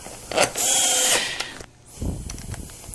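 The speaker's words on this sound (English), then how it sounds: "you can snug them with your cordless" Cordless drill whirring in short bursts as it snugs lug nuts on an ATV wheel, a loud close whine followed by a brief ratcheting clatter.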